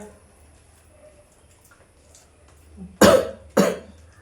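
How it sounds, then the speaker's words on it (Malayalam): Two harsh, close coughs from a person with a bad cough during fever season, in quick succession near the end, following a quiet stretch with faint background sounds. "ചുമണ്ട് നല്ല ചുമയുണ്ട്"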